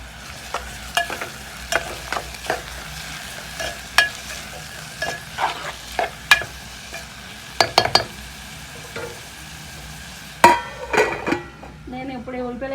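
Onions and green chillies frying in a pan for coconut pulusu, with fenugreek and mustard seeds already toasted, give a steady sizzle broken by sharp clinks and scrapes of a spoon stirring against the pan, louder clatter near the end.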